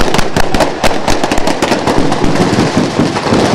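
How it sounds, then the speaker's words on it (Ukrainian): Rapid bursts of blank gunfire and bangs crackle through a staged RPG and machine-gun attack during a bodyguard training demonstration, a dense, loud, irregular volley of sharp reports. "У цей час невідомі атакують з РПГ."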